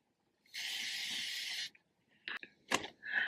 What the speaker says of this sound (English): Okay, spray bottle.